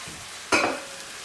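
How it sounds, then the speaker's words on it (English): Pureed onion hits hot oil in a pan with a sudden sizzle that starts loud and slowly tapers, alone after a quiet lead-in. "And add that to your oil, and just cook it off a little bit so you don't have any raw onion in it."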